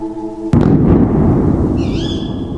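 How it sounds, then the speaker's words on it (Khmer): A loud gunshot in a 3D animated horror story cracks out abruptly after a low tonal hum, followed by a booming rumbling echo that slowly fades, with a faint high ringing tone near the end. "គ្រាប់កំភ្លើងដែលគាត់បាញ់វាប៉ាំងទៀតទៅយ៉ាងឆ្ងាយ"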